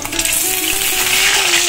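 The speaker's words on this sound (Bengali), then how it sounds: "দেখো হাঁসের ডিম ছাড়িয়ে এখন ভাজা করতে দিয়ে দিয়েছি আমি" Steady, close hiss of peeled boiled duck eggs frying in oil in a pan, a continuous bright sizzle with no voices.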